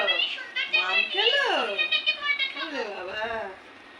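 A cat meowing indoors, several rising and falling meows heard close, mixed with children's voices talking over them.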